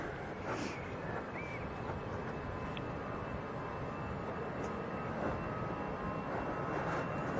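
An EasyJet airliner bound for Rome sits on the runway at Manchester Airport, its engines a faint, steady distant rumble with a few brief high chirps, with no voices.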